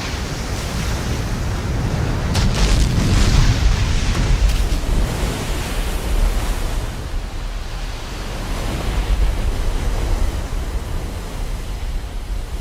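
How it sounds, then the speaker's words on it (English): Ocean surf pounds against the shore in a loud, continuous roar of crashing waves and rushing water, swelling and easing without any voices. "Ocean waves driven outward from fierce storm centers often travel for a week or more until they explode against the land"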